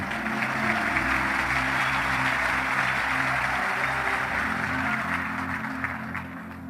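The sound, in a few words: congregation applause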